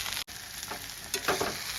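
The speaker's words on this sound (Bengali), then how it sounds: "এবার মাছের মাথাটা দিয়ে একটু সুন্দর করে মিক্স করে নেব।" A spoon stirs a fried fish head through boiled potatoes in a hot pan for dal. The oil gives a steady sizzle, with scraping stirs breaking through it and no one speaking.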